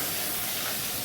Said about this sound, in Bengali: পাশে প্রেশার কুকারে ইঁচড় সেদ্ধ করতে